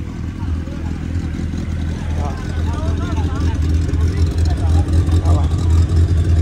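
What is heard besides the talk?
Porsche engine revving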